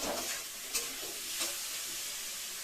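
Pumpkin pieces with bhola fish sautéing in a pan give a steady soft sizzle and hiss, broken by a couple of brief stirring scrapes.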